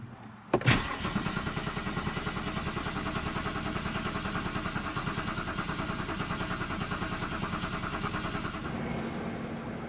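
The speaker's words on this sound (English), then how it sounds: "I'm gonna try to start it again" A BMW 330xi with a replaced used engine cranks hard and persistently after a sharp click, its starter chugging in a rapid steady rhythm for about eight seconds without the engine catching.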